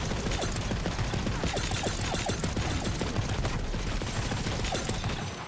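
A Vladoff rifle fires in Borderlands 3: a rapid, unbroken automatic stream of loud gunshots with mechanical clatter, sustained at close range for the whole stretch.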